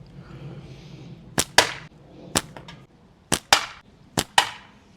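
A WASP Trigrip slingshot is shot repeatedly, giving sharp loud cracks in close pairs, each a band snap followed by a quick second impact, spaced roughly a second apart outdoors.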